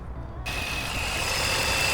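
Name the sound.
car engine idling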